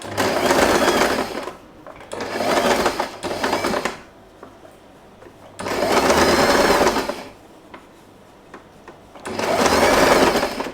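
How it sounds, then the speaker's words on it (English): Sewing machine stitching fabric for a scrunchie, running in three loud, close bursts of rapid mechanical whirring separated by quiet pauses, with no talk. "Let's sew a little."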